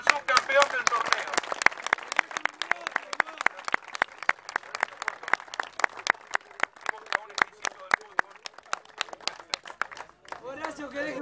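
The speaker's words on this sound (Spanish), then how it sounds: "Felicitaciones y aplauso al subcampeón del torneo." Hands clap for the runner-up at a tournament prize-giving, a long, steady run of sharp, close claps continuing for about ten seconds before a voice speaks at the end.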